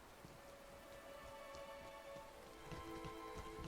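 Steady rain pattering on surfaces in the video game Rain, a soft, even hiss of drops that swells slightly near the end, with no voices.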